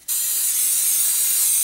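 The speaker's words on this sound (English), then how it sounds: "I am going to spray it with coconut oil just so it doesn't stick" Coconut oil cooking spray hisses out in one steady, close burst as it coats a baking pan for banana bread, running unbroken for over a second with no voices.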